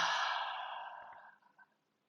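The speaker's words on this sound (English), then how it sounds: "exhale with an HA." A single long breathy exhale voiced as an open "ha" during a guided breathing exercise, close and clear, fading over about a second and a half with a faint trailing breath at the end.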